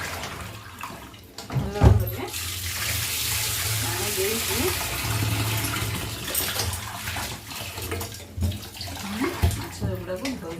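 Running tap water splashes steadily as pieces of fish are washed by hand for a fish fry, with intermittent clatter and sloshing bursts throughout, close and continuous.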